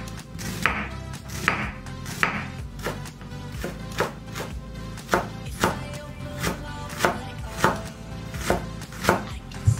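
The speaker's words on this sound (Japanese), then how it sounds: "玉ねぎはなるべく細かい方がよろしいですので、まあ、なるべく細かく切っていきます" A knife finely chopping raw onion on a cutting board for avocado dip, a steady run of crisp, close knocks repeating rapidly and evenly with no talk.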